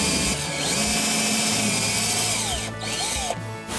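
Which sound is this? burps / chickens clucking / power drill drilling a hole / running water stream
power drill drilling a hole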